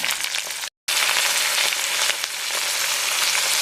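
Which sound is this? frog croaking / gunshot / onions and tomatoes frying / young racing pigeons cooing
onions and tomatoes frying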